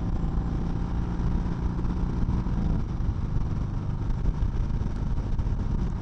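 Motorcycle fitted with a bullet fairing riding along a road at speed, a steady engine drone mixed with rushing wind noise, continuous and moderately loud with no talk.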